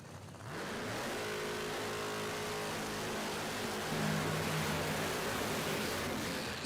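An orange nitrous-assisted Camaro Outlaw Pro Mod drag car at a drag strip revs loudly and steadily, its engine note climbing as it accelerates, with no talk heard over it.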